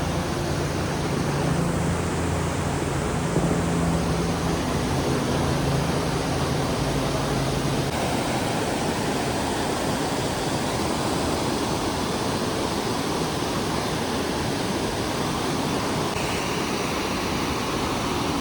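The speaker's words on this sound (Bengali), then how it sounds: "সেই ওয়াটারফলের একদম নিচটা দাঁড়িয়ে আছে ওইখানে ওই যে ওয়াটারফল" Snoqualmie Falls in flood, its swollen river thundering as a steady, dense roar of falling water that holds loud and unbroken from start to finish with no voices.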